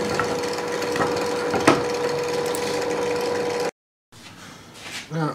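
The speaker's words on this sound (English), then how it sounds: "we're just going to clean that up quickly with a chisel" Wooden mortice for a laundry table being cleaned up with a chisel: a run of close scraping and paring, a couple of sharp knocks, a short gap, then a few more rough strokes.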